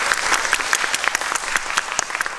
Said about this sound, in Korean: 그럼 큰 박수 부탁드릴게요.